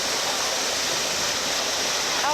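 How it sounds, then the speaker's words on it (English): Water rushes steadily down through a sluice in Alaska, a dense, continuous loud hiss and roar that holds constant throughout. "Water comes down from up there."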